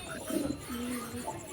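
Low, throaty cooing from a black female pigeon being fed grain, a short burble followed by a longer drawn-out coo, close by with faint background noise.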